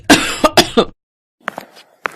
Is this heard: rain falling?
no